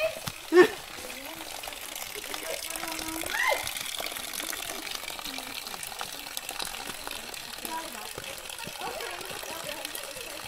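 Water flows steadily along a hiking trail, a soft continuous rushing wash with a few brief louder knocks and faint voices in the background.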